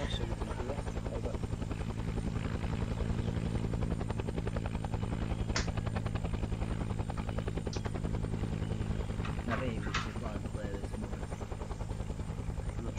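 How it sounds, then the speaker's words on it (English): A video-game helicopter hovers nearby, its steady rotor thrum loud and continuous throughout, with a few brief sharp clicks over the top. "we need your chopper a little bit away from us so we can hear"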